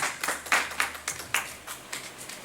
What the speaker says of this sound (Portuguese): Dá salva de palmas ao Senhor